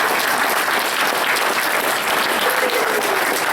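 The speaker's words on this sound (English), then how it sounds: "So give all of yourselves a round of applause" Applause from a convention audience at the Trotcon 2023 closing ceremony, a dense, steady wash of many hands clapping that holds at full strength and close for the whole stretch, with no talk over it.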